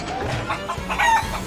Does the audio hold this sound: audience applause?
no